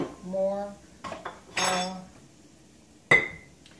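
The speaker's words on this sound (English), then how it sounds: "I'm going to get this all stirred up until it's brown." Metal utensil scraping and clinking against a pan while gravy for hamburger steak is stirred, a few separate scrapes and one sharp clank near the end, close and fairly quiet with no talk.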